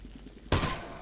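A single sharp gunshot from a weapon in the VR game Half-Life: Alyx cracks out loud and close midway through, after quiet background noise, then fades quickly.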